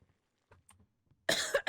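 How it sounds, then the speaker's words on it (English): A character in the video game Turnip Tavern coughs in a loud burst of two or three harsh coughs near the end, following a stretch of near silence with faint small game sounds. "the random coughing is back"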